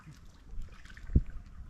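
A round coracle boat drifts on quiet water during a Senthuruni ride, faint lapping and a single soft knock of the paddle or hull standing out near the middle.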